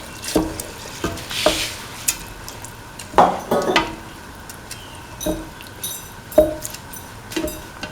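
A spoon stirs a potato and chickpea mixture in a pan, giving repeated scraping strokes with light clinks of utensil against metal over a soft sizzle, close and fairly loud with no talking.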